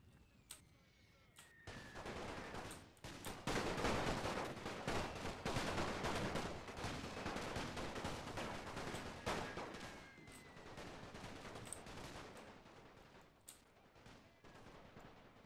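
Massed infantry musket volleys from a Napoleonic-era battle game crackle in dense, sustained rolling fire, loud and continuous with sharp individual reports standing out.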